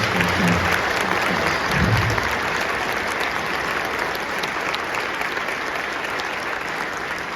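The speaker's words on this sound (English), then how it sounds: "maybe we should share a round of applause for all the work that those folks have put in to" A sustained round of audience applause for festival organizers at a district honor band concert, dense and steady clapping from a large crowd throughout.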